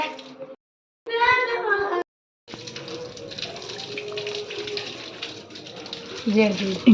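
Water poured over a young child during a bath at home, splashing in bursts with short pauses, while people chatter and a voice mixes in throughout.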